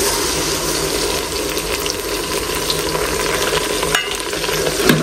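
Ginger garlic paste fries in a pan while being stirred, giving a loud, continuous close sizzle with scraping strokes and a few clinks.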